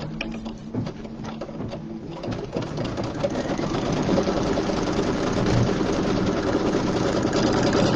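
A sewing machine stitches a tack-down on quilt batting, a loud, continuous, rapid mechanical whir and clatter that runs steadily throughout and grows slightly stronger after the first couple of seconds, with no talking.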